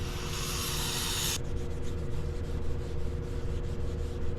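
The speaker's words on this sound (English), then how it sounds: "Go ahead and spray this." A steady hissing aerosol spray for over a second onto a clutch pressure plate in a 2018 Chevrolet Camaro, then it stops, leaving quiet rubbing and a faint background hum.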